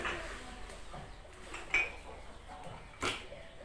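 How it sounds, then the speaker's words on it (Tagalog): Plates and dishes clink as washed tableware is put away in a small home kitchen, with two sharper clatters standing out over faint background noise. "Ilalagay na po natin yung pinggan sa loob."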